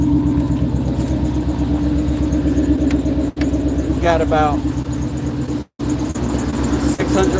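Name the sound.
truck engine running, new engine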